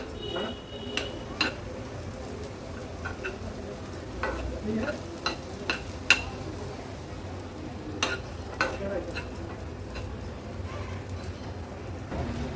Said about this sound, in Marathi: हे साबुदाणे तुपावर आपण 2 ते 3 मिनिटांसाठी परतून घेणार आहोत।